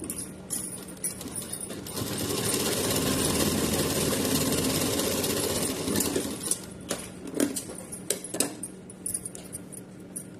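A sewing machine stitches a Laddu Gopal outfit, whirring in a steady run for several seconds, then falling into short, uneven bursts of stitching with clicks between them.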